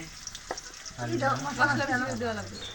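Cut pieces frying in oil in a karai pan, a soft continuous sizzle with light stirring.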